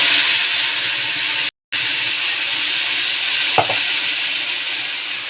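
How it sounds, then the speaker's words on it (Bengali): Cauliflower fries with bay leaves and spices in hot oil, giving a steady, close, hissing sizzle that drops out briefly once, then carries on alone. "এবার এটা ভেজে নেব।"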